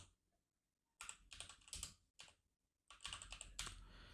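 Quiet computer keyboard typing comes in bursts of rapid keystrokes as a title is entered with the text tool in After Effects, separated by brief silent gaps, with no speech.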